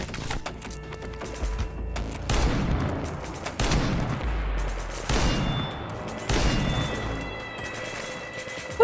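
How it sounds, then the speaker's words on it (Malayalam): Rapid gunfire bursts from the Minecraft game fill the scene, with several loud volleys of crackling shots separated by short pauses, alone without talk. "വെടിവെച്ച് കേൾക്കുന്നോടത്തേക്ക് സോംബീസ് പോകുന്നുണ്ടല്ലേ."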